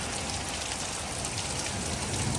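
Heavy rain from a hurricane pours down steadily as an even, dense hiss of drops hitting surfaces, with no voices.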